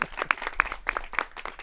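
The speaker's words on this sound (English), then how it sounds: "Give her a round of applause." Scattered hand claps at a ribbon-cutting ceremony for the 2000th redeveloped home, a small audience clapping in an uneven rhythm, fairly close and thin rather than a dense roar.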